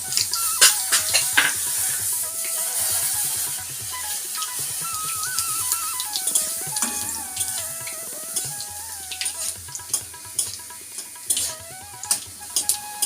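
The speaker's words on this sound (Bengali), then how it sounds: "ভালো করে লঙ্কাগুলো ভেজে নিতে হবে।" Oil sizzles steadily as whole dried chillies and nigella seeds fry in a pan, with occasional stirring clinks and scrapes; no voices.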